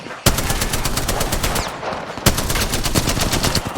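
Rapid automatic gunfire in the battle royale video game Apex Legends, a dense, loud stream of shots with a couple of sharper cracks, continuous for several seconds and close to the listener, with no talking over it.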